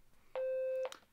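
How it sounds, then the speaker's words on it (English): A 520 Hz square-wave fire alarm evacuation tone sounds as one loud, steady, continuous half-second burst, ending abruptly and leaving only faint room noise. "this is a 520 hertz evac tone. It's a square wave rather than a sine wave"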